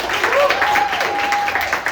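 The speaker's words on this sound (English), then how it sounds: "Round of applause for that." Audience applause at a film panel discussion, a short burst of clapping with a voice faintly heard alongside.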